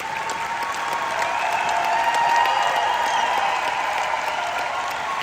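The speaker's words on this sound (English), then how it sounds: "Please give them a big round of applause" Sustained applause from a large audience at a dōTERRA stage event honoring presenters, a dense steady wash of clapping that swells slightly midway and holds loud and close throughout, with no voices over it.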